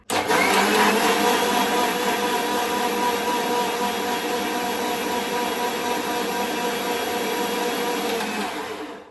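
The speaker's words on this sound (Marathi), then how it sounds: "ह्यात मी थोडं पाणी ॲड करणार आहे आणि हे वाटून घेणार आहे मिक्सरला" A mixer grinder grinding peanuts and green chilies with a little water into a thin paste whirs loudly and steadily, a high-pitched motor drone that starts abruptly and runs for several seconds before winding down at the end.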